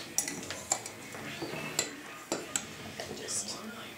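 A spoon stirs granulated sugar into graham cracker crumbs in a bowl for a chocolate cheesecake crust, giving light, irregular clinks and scrapes against the bowl, close and fairly quiet.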